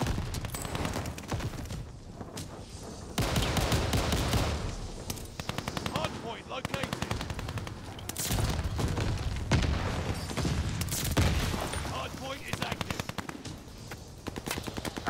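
Rapid automatic gunfire in the video game Call of Duty Vanguard, dense bursts of shots with a few pauses, loud and sustained across the clip with scattered distant booms.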